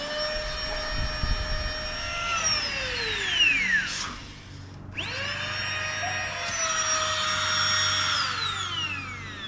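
An electric boat pump inflates the tubes of an inflatable boat to maximum pressure with a steady, close whining whir. The pitch bends down, cuts out briefly, then rises again and holds, with no talking.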